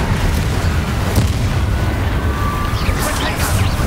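Spell blasts from the Hogwarts Legacy video game roar in a loud, continuous wall of booming explosions and rumble that lasts the whole stretch, with no pause between hits.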